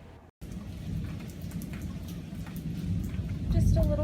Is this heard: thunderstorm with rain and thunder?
yes